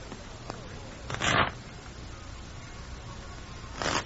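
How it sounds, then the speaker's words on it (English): A deck of playing cards being shuffled, two brief riffling bursts near and fairly quiet against a faint background, with a short tap between them. "Shuffle them, would you please, Waddles?"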